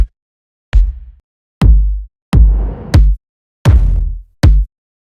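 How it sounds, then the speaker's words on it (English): Six punchy, booming kick drum samples from Logic Pro X's Drum Designer play alone at an uneven pace, each with a sharp attack and a short low decay, with silence between them. "This is a tight kick right here."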